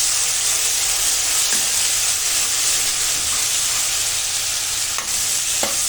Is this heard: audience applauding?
no